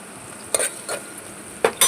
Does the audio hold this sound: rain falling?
no